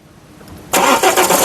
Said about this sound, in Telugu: చూడొచ్చండి సింగిల్ లో కార్ స్టార్ట్ అయింది